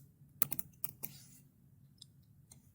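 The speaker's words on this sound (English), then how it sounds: "I can go in this search box up the top and type in all vendors" Keys clatter on a computer keyboard as a search query is typed: a quick burst of close, crisp keystrokes, then a few isolated taps trailing off in a quiet room.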